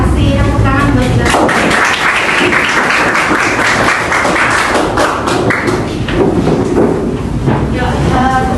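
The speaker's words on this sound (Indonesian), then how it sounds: "Kasih tepuk tangan buat kita." Children clapping together in a classroom, a dense, loud burst of hand claps with thumps running through most of the stretch, with voices mixed in.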